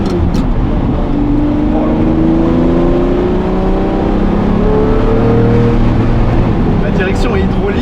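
Lamborghini Murciélago LP-580 V12 with a manual gearbox under way, its engine a steady loud drone with rising and falling harmonic tones as it pulls, heard from inside the car throughout.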